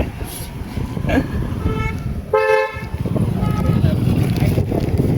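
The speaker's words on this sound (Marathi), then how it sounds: "आता आपला हॉर्न आहे" A single loud honk of a vehicle horn sounds for about half a second amid rumbling wind and traffic noise at Vaibhavwadi market.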